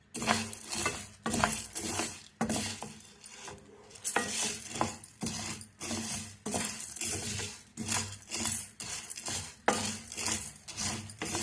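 Black urad dal dry-roasts in a pan, the hard grains rattling and scraping in rhythmic bursts as they are stirred repeatedly, close and fairly loud with brief pauses between strokes.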